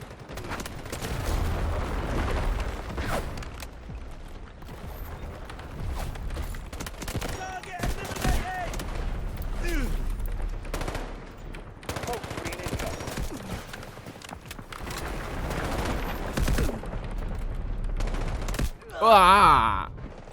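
The MK4 rifle in Delta Force fires in fast automatic bursts during close-range fighting, loud and near, with heavy continuous gunfire and battle noise throughout and a brief burst of louder action near the end.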